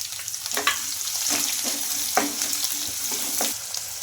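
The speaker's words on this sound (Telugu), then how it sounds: "పప్పులన్నీ కొంచెం ఫ్రై అయిన తర్వాత కట్ చేసుకుని ఆనియన్స్ అయితే వేసుకోవాలి" Dals, chopped onions, cumin and mustard seeds frying in hot oil: a steady close sizzle with several scraping stirs of a spoon against the pan, and no talking.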